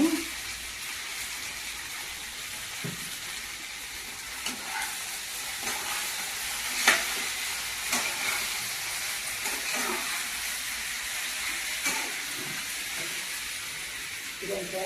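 Taro root frying in oil in a pan, a constant hissing sizzle with soft periodic scrapes and stirs spread across the stretch, fairly close and steady.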